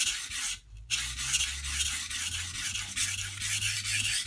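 A knife blade pressed down hard against a sharpening stone to reform a dull edge, giving steady, continuous rasping strokes up close with no talking.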